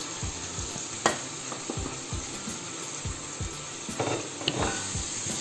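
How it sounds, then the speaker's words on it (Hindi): Chicken and spices frying in a pot for pulao sizzle steadily while a spoon scrapes and knocks against the pot in a loose, regular rhythm, with a few louder clanks. "मसाले डाल के तकरीबन 5 मिनट के लिए इनको भुनेंगे ताकि मसाले भी हमारे भुन जाएं और चिकन भी हमारा सॉफ्ट हो जाए"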